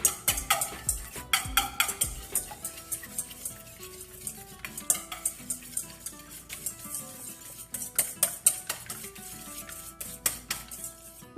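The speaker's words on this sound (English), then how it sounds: "We'll slightly beat up this egg." One egg beaten in a bowl, rapid rhythmic clinks of a utensil against the bowl in short bursts with brief pauses, close and clear, no talking.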